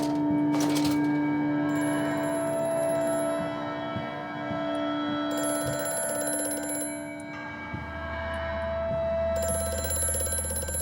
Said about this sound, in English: it's a telephone. Call me on the phone.